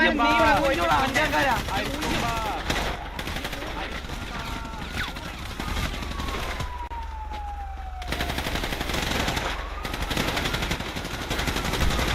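Video game battle gunfire rattles in rapid automatic bursts and scattered shots, dense and loud, while a player talks over the fighting and a rising and falling siren-like tone runs through it.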